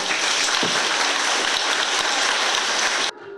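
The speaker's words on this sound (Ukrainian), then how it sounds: "під ваші бурні оплески хочу вручити цю подяку Петру Григоровичу за допомогу" A village school audience bursts into dense, steady applause at a Day of Knowledge ceremony, loud and sustained for about three seconds before cutting off abruptly.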